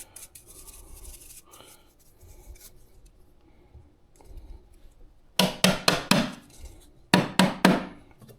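Coffee grounds are knocked and brushed out of a Fanttik Slim V8 handheld vacuum: soft scratchy brushing first, then two quick bursts of sharp, loud knocks, three or four taps each.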